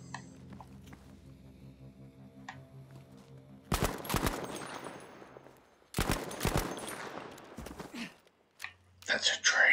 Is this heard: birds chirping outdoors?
no